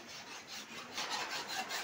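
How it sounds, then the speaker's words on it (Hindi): A kitchen knife is sharpened indoors on a rainy day, giving soft repeated rasping strokes in an uneven back-and-forth rhythm, close but quiet, with no talking. "तो अभी चाकू को धार लगा रहे हैं, आप चाकू को धार लगा रहे हैं।"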